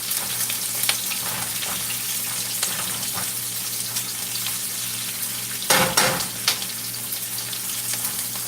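Onions sizzle and fry steadily in a hot pan while squirrel is being cooked, a close, continuous crackle with a brief louder burst of sizzling partway through.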